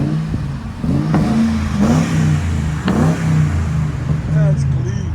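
Ford Crown Victoria V8 with an aftermarket exhaust revving in a loud, close, rising and falling drone with a few sharp rev pulses, and a person speaking over it.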